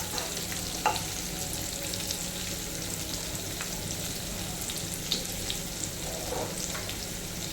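Anchovies (natholi) shallow-frying in a pan Kerala style, a steady close sizzle with a few light clicks of a spatula, no voices.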